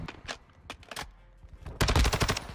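Gunfire rings out in a Modern Warfare 2 multiplayer match, with scattered single shots followed by a loud rapid automatic burst near the end.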